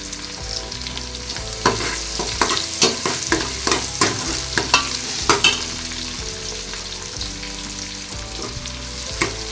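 Crushed garlic sizzles in hot oil with a constant fry hiss, while a spoon stirs and knocks against the pan in repeated close, sharp taps.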